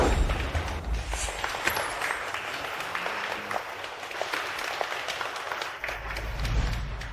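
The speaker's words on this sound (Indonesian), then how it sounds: "Mari kita sambut dengan tepuk tangan." Wedding guests applaud the arriving bride, a dense sustained burst of clapping from a crowd that fills the whole stretch without pause.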